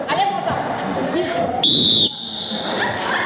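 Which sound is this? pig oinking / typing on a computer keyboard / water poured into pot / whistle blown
whistle blown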